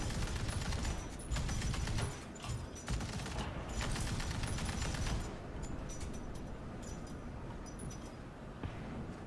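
Sustained gunfire from a Vickers tank in War Thunder, a dense stream of rapid shots that stays loud throughout, with brief lulls and bursts of crackling impacts.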